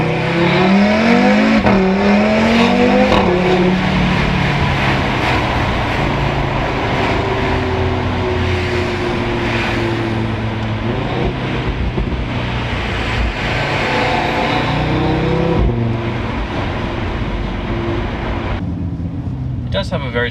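A facelifted Audi RS3 pulls hard under throttle, its engine note climbing in pitch through the rev range. Loud road and tyre noise runs underneath, and someone talks over most of it.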